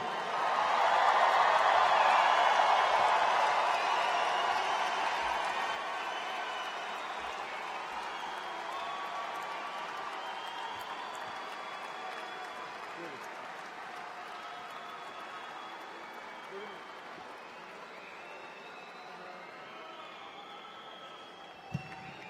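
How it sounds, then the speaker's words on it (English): Graduation convocation audience applauding the graduating class of 2018, a thick loud burst of clapping that swells at the start, then thins to lighter, steadier clapping with scattered cheers trailing off. "One more thunderous applaud for the class of 2018"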